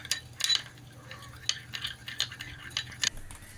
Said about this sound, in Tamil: இவ்வளையும் போட்டு நல்லா மிக்ஸ் பண்ணிட்டோம்.